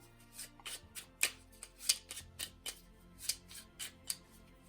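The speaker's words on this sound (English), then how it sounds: "we're going to flip them back over. We want to make sure that this dark portion here is all on the bottom, and you'll just shuffle them up." Lost Ruins of Arnak board game cards are riffled and shuffled close up in a quiet room, a series of quick papery flutters and taps in irregular bursts.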